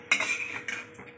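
Fried pointed gourd (potol) is lifted out of hot oil with a metal utensil, giving a few short, close scraping and clinking knocks against the pan in a kitchen.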